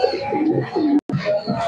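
Giribaj pigeons coo close by in a series of low, throaty, rolling calls that repeat steadily, with one brief break of silence partway through.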